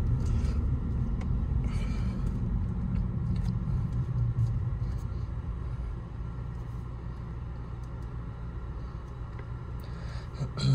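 A manual-transmission car engine hums steadily from inside the cabin while driving and changing gears, a continuous low rumble that eases slightly partway through as the car slows toward a stop.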